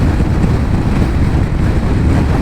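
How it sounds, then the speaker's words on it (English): Steady, loud roaring wind noise buffeting a motorcycle helmet while riding near 120 km/h on the German Autobahn, with a constant low rumble and no breaks. "We're close to 120 km/h now, and there's a lot of wind noise."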